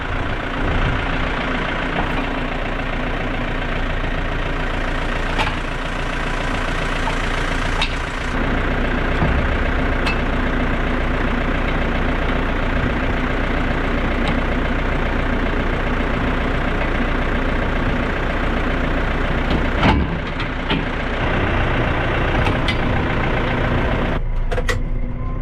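A farm tractor engine idles nearby, giving a loud, steady low rumble that runs unbroken for the whole stretch, with a few faint clanks on top and no talking.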